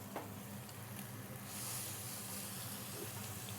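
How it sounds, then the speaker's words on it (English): Water steaming under a dome over a smash burger on a hot griddle, a steady close hiss and sizzle with no pauses, fairly quiet and even throughout. "Let that steam."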